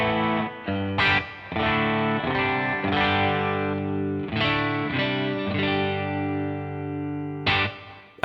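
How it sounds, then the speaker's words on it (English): An electric guitar runs through a BluGuitar Amp1 with reverb switched on, sustained distorted chords ringing out in several strums with a smooth reverberant tail and no talking. "I've got access to my reverb, so I can turn that on."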